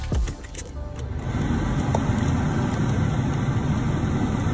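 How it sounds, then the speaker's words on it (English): A car engine cranks and catches, then settles into a steady, close idle that continues without pause. "start the car"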